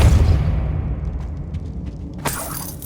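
Depulso spell cast in the video game Hogwarts Legacy: a loud, low rumbling magical blast that fades out, followed by a sharp bright crack near the end.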